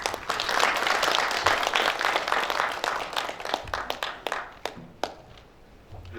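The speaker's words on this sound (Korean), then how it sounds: "박수 부탁드리겠습니다" Crowd applause at a Korean journalists' day ceremony, dense clapping that thins into scattered individual claps and fades out toward the end.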